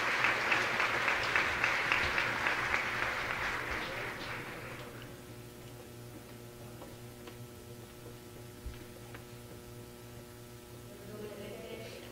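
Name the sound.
audience applause for a speaker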